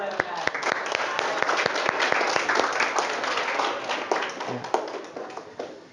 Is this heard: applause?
yes